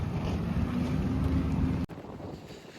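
Strong wind buffeting the microphone on a farm, a dense low rumble that cuts off abruptly near the end, then a lighter gusty noise continues.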